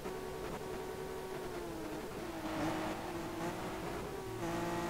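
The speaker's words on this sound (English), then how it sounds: "He's got an S600. That's a V12" A Mercedes W140 S600 V12 engine in the Street Legal Racing Redline driving game, a continuous smooth drone that climbs and drops in pitch as the revs change, heard alone.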